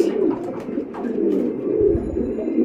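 Danish beauty and homer satin fancy pigeons coo continuously at close range, a steady layered murmur of soft rolling calls from several birds with no talking.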